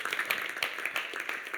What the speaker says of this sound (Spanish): Le das aplauso fuerte, Señor.